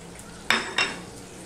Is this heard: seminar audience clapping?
no